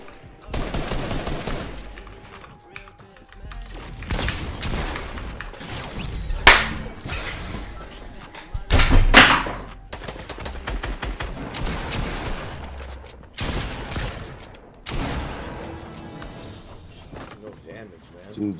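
Rapid gunfire in a video game, with sharp cracking bursts and clustered volleys that rise and fall across the stretch, loud and close, with heavier salvos near the middle.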